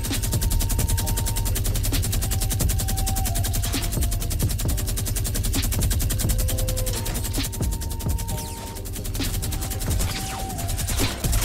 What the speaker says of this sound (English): there's a hacker with a minigun in the game.